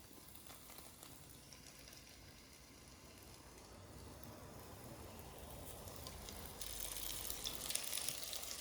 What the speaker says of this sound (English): we're gonna get to frying here.